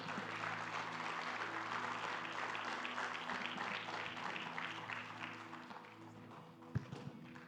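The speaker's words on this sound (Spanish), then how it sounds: "Más fuerte ese aplauso al Señor," A church congregation applauding in praise, a steady dense wash of many clapping hands at moderate distance, sustained throughout with a faint hum underneath and a couple of sharper taps near the end.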